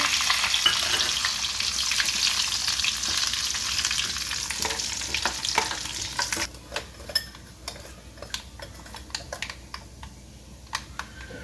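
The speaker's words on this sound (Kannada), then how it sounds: "ನೋಡಿ, ಸಾಸಿವೆ ಚಟಾಪಟ ಅಂತ ಇದೆ. ಅದಕ್ಕೆ ನಾನು ಈಗ ಜೀರಿಗೆ ಹಾಕ್ತಾ ಇದ್ದೀನಿ." Mustard seeds and cumin splutter in hot oil in a home kitchen, making a loud, dense sizzle that suddenly drops to sparse, scattered pops and crackles.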